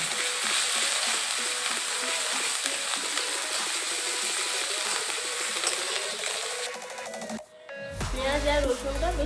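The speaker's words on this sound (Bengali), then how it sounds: "এবার দিয়ে দেবো 1 টেবিল চামচ রসুন বাটা, দিয়ে আবারও আমি ভালো করে ভেজে নেব।" Onion and garlic paste frying in a pan, a steady dense sizzle throughout at moderate level with some utensil scraping, then a brief dip and a changed, louder texture near the end.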